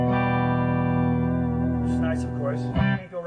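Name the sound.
electric guitar through 1970 Fender Deluxe Reverb amp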